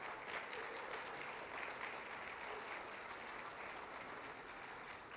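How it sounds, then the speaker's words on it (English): Audience at a graduation ceremony applauding the faculty, a dense, even wash of clapping from a large crowd that holds steady throughout. "a round of applause for their efforts for you"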